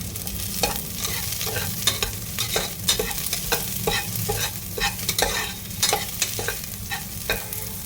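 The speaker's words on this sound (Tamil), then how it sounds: "பீன்ஸை சேர்த்து ஒரு வதக்கு வதக்கிட்டு இப்போ எல்லா காயும் நம்ம சேர்த்துடலாம் அதில் கேரட்டை சேர்த்துறேன்" Beans and carrots are sautéed in a hot pan, with a constant sizzle broken by regular sharp scrapes and clacks of a spatula stirring the vegetables, close and loud with no talking.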